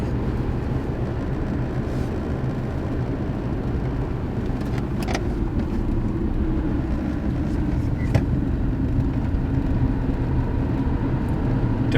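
A car speeds past on the right on a road, heard from inside a moving vehicle as a steady, loud rumble of road and engine noise with no distinct pass-by peak.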